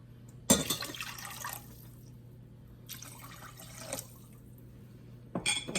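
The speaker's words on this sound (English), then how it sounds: "we're gonna put 3 cups of water" Three cups of water pour into a pot for sugar syrup in a home kitchen, arriving in three separate splashing bursts with short quiet gaps between them.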